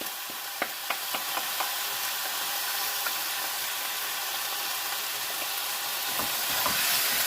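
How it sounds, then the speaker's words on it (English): Beef frying in a hot pan, a steady close sizzle that hisses continuously, with occasional light clicks and taps of stirring throughout and no talking. "Pan's getting nice and warm. And we'll go with the beef."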